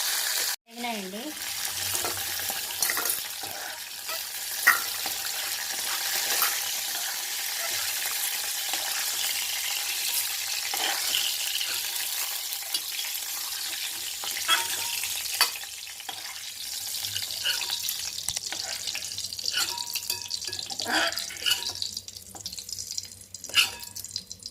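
Ingredients for brinjal coconut chutney fry in a pan, giving a continuous hissing sizzle with occasional scraping stirs and clinks throughout.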